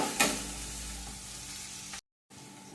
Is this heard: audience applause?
no